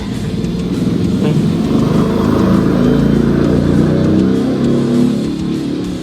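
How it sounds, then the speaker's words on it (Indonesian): A motorcycle goes by close and loud, its engine a continuous rough roar that holds steady for about six seconds with no voices. "ada suara motor"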